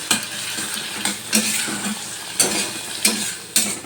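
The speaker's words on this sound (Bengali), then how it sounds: "এবার এটা ভালো করে ভাজা ভাজা করে নিতে হবে," Spinach and coriander paste fries in a pan while being stirred, giving a steady close sizzle broken by sharp scraping strokes about once a second, with no voices.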